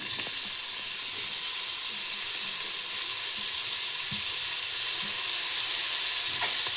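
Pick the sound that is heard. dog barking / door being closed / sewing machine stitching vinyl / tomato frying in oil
tomato frying in oil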